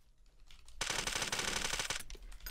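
Automatic gunfire in the online shooter Blockade 3D, one rapid burst of about a second, fairly faint, with quieter game sounds before and after.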